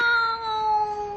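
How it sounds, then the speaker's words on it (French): A cat stuck up high gives a single drawn-out plaintive meow, clear and close, with a slight downward bend in pitch and no talking. "Oh, le pauvre petit minou."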